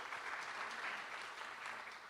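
Applause from the audience at a national parole review summit, a soft, distant, even patter of clapping that lasts about two seconds.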